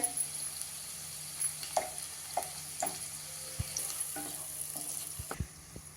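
Onion and tomato go into a pan over crackling cumin, giving a soft, fairly quiet sizzle with sparse scraping taps of a spoon and no talk.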